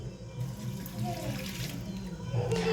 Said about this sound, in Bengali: এবার আমি ধুয়ে নেব আলু।